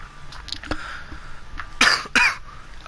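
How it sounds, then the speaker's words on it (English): A person coughs twice in quick succession, two loud, broadband bursts close to the microphone, with fainter clicks and low background murmur before them during a Friday the 13th game livestream. "I needed to cough."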